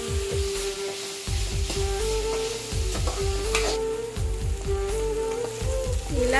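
Onions sizzle and fry in a hot pan for egg bhurji, a steady crackling hiss with repeated scraping stirs of a spatula, close and continuous with no talk.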